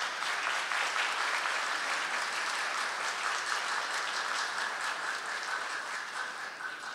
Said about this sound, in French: pour nous applaudir très chaudement Dr. Théodore Fayette